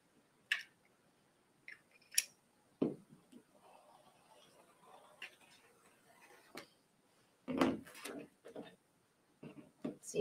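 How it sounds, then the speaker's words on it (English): Fabric selvage being trimmed for a color block quilt block skirt, with a few scattered cutting and snipping sounds, soft clicks and brief rustles, fairly faint and close with quiet pauses between. "So let me just cut off my selvage here."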